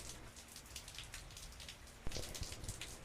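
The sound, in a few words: rain falling in the Rain Room art installation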